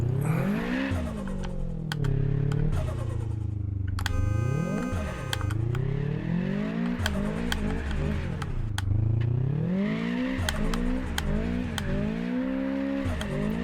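A car drifting around a drift track in the racing game Apex Point, its engine wailing up and down in long revving sweeps with tire noise, loud and steady throughout with no talk.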